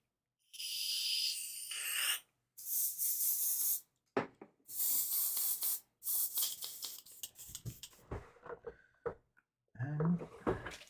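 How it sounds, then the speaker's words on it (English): Airbrush blasting cleaner in short bursts of hissing spray, several separate sprays with gaps between, close and fairly loud, with a few quiet handling noises toward the end. "A quick blast of airbrush cleaner."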